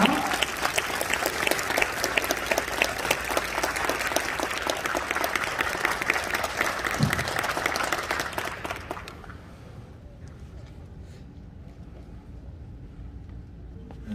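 A graduation audience at a church school gives loud, dense applause to welcome the pastor to the stage, a continuous roar of clapping for about nine seconds that stops abruptly into quiet room tone.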